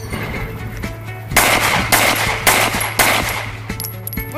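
Gunfire on a police shooting qualification range: five loud, sharp shots spaced roughly half a second apart, each ringing briefly, over a steady low hum, with no talking.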